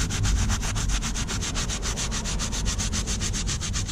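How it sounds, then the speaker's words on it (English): Hand sanding of a suede car interior with 600-grit sandpaper, rapid regular back-and-forth rubbing strokes, close and steady with no speech. "we're just gonna take some sandpaper to this and see if all this is like coming off."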